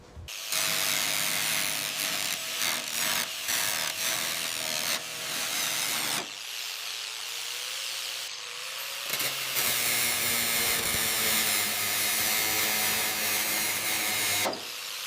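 Power tool cutting rusted floor metal out of a 2020 Honda Civic RS Turbo, a loud continuous grinding whine with brief breaks and pitch shifts as the blade bites, close and sustained.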